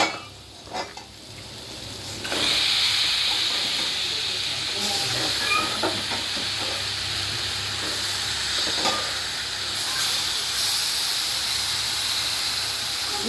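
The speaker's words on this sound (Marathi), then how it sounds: "आता आपण मटण टाकून घेऊया।" Mutton hitting a hot pan of masala sets off a loud, steady sizzle and hiss that swells after a couple of seconds and keeps crackling close by without a break.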